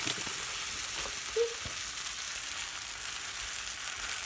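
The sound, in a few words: buttered tortilla sizzling on a griddle for quesadillas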